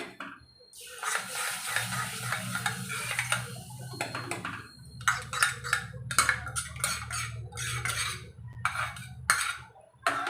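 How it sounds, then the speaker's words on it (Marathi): Pav bhaji being stirred in a pressure cooker, a spoon scraping and clinking against the metal in repeated bursts over a low steady background hum. "व्यवस्थित मिक्स करूया"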